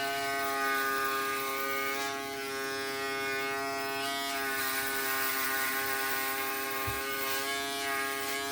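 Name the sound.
Wahl compact electric foil shaver shaving neck side to side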